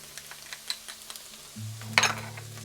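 Finely minced garlic sizzles quietly in a pan, with light taps of a stirring utensil, then a louder hiss and scrape as the garlic is pushed around near the end.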